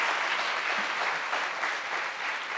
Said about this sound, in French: on peut sacrément applaudir Saïd